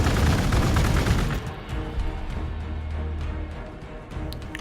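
Units firing in Warhammer 40,000: Gladius, a loud rapid volley of gunshots and bursts up front that thins after a second into scattered lighter pops and a low rumbling hum.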